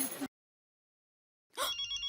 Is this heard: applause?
no